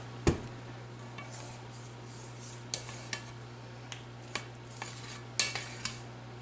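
A spatula scrapes and taps against a stand mixer bowl while carrot cake frosting is made with powdered sugar; sharp, scattered clinks and knocks sit over a steady low motor hum, close by and with no voices.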